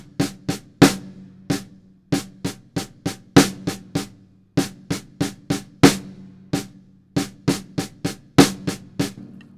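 Drum kit playing a ride cymbal sticking pattern, with steady rapid stick hits in repeating groups and regular louder accents, close and alone without talk.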